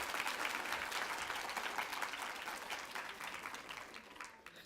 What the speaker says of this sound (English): Please could you give them a round of applause?